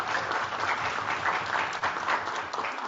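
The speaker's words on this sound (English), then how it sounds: "A round of applause for all our teams for doing a great job." Steady applause from a room full of people at a moot court event, continuous clapping with no pauses, fairly loud and close.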